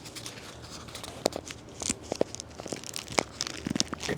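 A slip being twisted off a backyard pineapple plant in Florida, heard up close as a run of dry leafy crackles, tearing snaps and crinkles with no talking.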